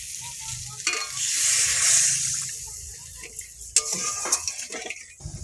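Water is poured into a pan of fish curry with bay leaf, a loud rushing hiss, followed by stirring scrapes and clinks of a utensil against the pan.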